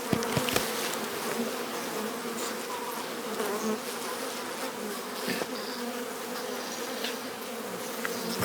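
Honey bees fill a hive with a dense, steady buzzing during a late-season inspection in Newfoundland, with the swarm's hum continuous and close throughout.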